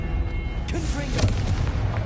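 The Confringo explosive spell is cast in Hogwarts Legacy, giving a booming blast with rumbling low crackle, and a voice shouts during the burst.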